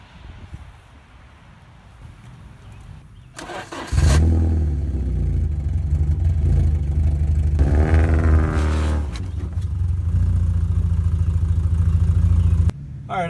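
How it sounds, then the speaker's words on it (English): A black 1987 Porsche 924S being driven up onto ramps: after a quiet stretch the engine catches loudly into a steady close rumble, briefly revving with a rising whine midway, then cuts off abruptly. "I'm going to be putting this car up on ramps"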